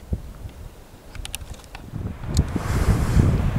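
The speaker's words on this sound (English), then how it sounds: "Pretty windy today." Outdoor wind at a rifle shooting range buffets the microphone in low rumbling gusts. It starts fairly quiet with a few faint ticks, then swells louder and rougher toward the end.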